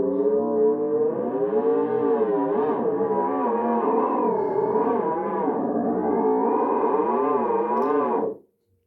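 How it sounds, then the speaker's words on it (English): An Air Synth noise instrument on its 18 setting drones steadily for about eight seconds, a warbling, moaning tone with sweeping pitch bends and rich overtones, loud and alone before cutting off abruptly. "So first up, we have the Air Synth"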